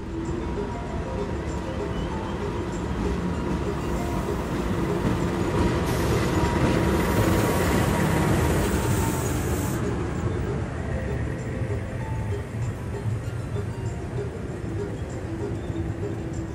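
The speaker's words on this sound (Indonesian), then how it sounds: "Yang baru saja tiba di jalur 3 itu adalah rangkaian kereta api Gajayana tambahan." An extra Gajayana passenger train rolls into a Jakarta-area station platform, a loud steady rumble of wheels and cars with a brief hiss of brakes or air partway through, under general station noise.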